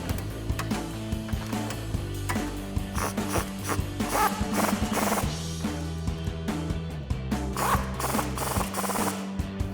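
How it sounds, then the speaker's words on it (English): Ratchet with an 18mm socket tightening the brake caliper bolts on a 2009-2020 Dodge Challenger GT, a close run of rapid clicking pawl bursts repeated across the stretch with no voices. "we can grab our 18mm socket and tighten these down"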